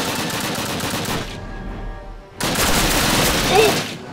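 Dense bursts of rapid gunfire in Call of Duty 1, loud and close, cutting off briefly before resuming in heavy volleys.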